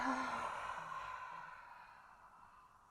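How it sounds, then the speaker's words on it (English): Quiet inhale through the nose followed by a long, fading exhale out the mouth during a yoga flow, a soft breathy sigh that tapers gently away, heard alone. "we're going to inhale through the nose and exhale out the mouth"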